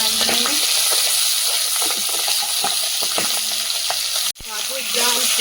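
Tengra fish frying in hot oil over a wood fire, a steady close sizzle and crackle running throughout with scattered pops and a brief break near the end.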